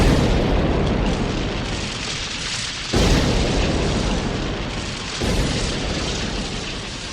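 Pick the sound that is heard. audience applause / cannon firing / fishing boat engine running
cannon firing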